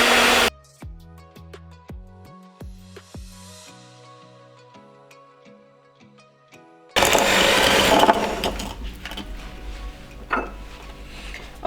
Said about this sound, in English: So I'm going to be whisking it together with the sugar.